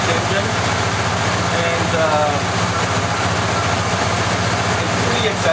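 A 1972 Cadillac Eldorado Convertible's engine idles steadily with a low, even rumble and faint rhythmic pulsing, close and continuous for several seconds while someone speaks briefly over it.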